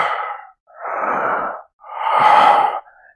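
A man imitates heavy breathing with his voice, three long breathy exhalations close to the microphone, each separated by a brief pause.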